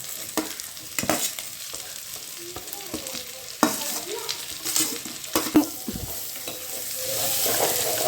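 Sliced onions sizzle and fry in a pan for kuruma curry, a steady hiss broken by scattered clinks and scrapes of stirring, fairly close.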